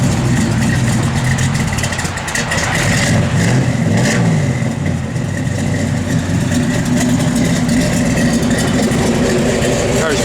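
A 1964 Chevrolet Malibu engine runs close and loud with a rough low rumble, swelling slightly as it revs throughout.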